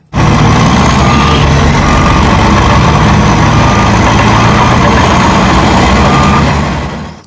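A toy sand truck's engine sound effect plays as a steady, loud, low rumble like a heavy idling truck, starting abruptly and holding for several seconds before fading at the end, with no talking over it.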